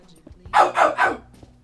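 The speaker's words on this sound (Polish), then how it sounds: "No pieprzony pies mi szczeka" A dog gives three quick, fairly close barks in a row, rising out of quiet background hum and then falling silent again.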